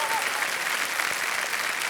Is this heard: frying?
no